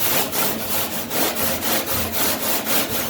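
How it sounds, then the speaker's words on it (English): Wire brush scrubbing the bottom of an evaporative swamp cooler, a close, steady rasping scrape in quick regular back-and-forth strokes, roughly three per second. "we're going to go ahead and scrub it with a wire brush"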